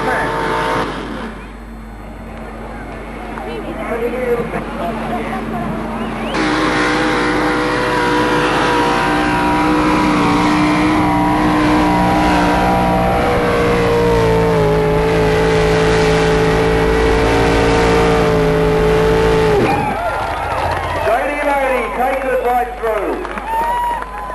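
A pulling tractor at a tractor pull event roars loudly and steadily for most of the run, its engine pitch climbing and straining before cutting off near the end, with an announcer talking over it.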